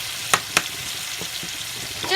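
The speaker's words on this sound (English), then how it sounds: "now I'm gonna fry some tomatoes with this" Tomatoes fry in butter in a pan, giving a steady soft sizzle with two sharp spattering pops near the start and a brief louder crackle at the end.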